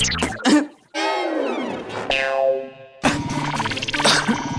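A person coughs several times in quick bursts, with harsh hacking and a drawn-out strained sound between them, close and loud.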